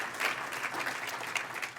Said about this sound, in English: please, give a round of applause to Sheila and to Thelma